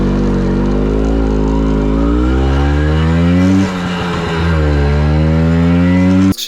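A 181 cc air-cooled two-stroke Vespa scooter engine buzzes loudly up close, its pitch climbing, dipping briefly mid-way, then rising again before cutting off abruptly.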